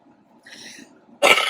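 A single sharp allergy cough bursts out loudly near the end, preceded by faint breathy sounds, indoors during a yarn and knitting chat.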